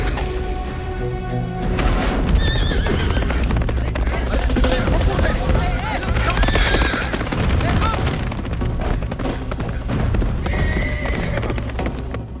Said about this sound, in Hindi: ये घोड़े पे किधर भागता चला जा रहा है?